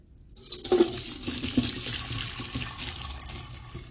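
Boiled vegetables — bell peppers, green peppers, carrots, cauliflower and garlic — are drained, water pouring and splashing through a colander in a steady gushing stream that gradually thins out.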